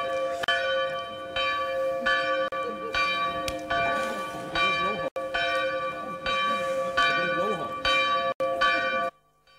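Church bells ring loudly and close by, with overlapping resonant strokes that sound continuously before cutting off near the end.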